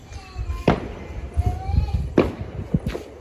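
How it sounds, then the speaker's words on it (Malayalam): New Year fireworks bursting at a distance, with a few sharp cracks and pops and rising whistles amid background chatter and ambient noise. "ഇവിടെ ഒരു ഫയർ വർക്സ് നടക്കുന്നുണ്ട്, ന്യൂ ഇയർ ഒക്കെ ആയിട്ടായിരിക്കും."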